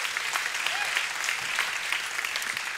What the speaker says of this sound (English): I want you to clap for yourselves